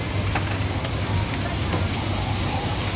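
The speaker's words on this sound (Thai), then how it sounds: "แล้วก็ฝั่งนี้ก็พ่อครัวกำลังผัดเลยฮะนี่กำลังผัดเลย" A chef stir-fries spaghetti ingredients in a hot pan at an open-air market stall in front of Robinson in Si Racha, Chonburi. The steady, close sizzle and hiss run without a break, with busy market noise behind it.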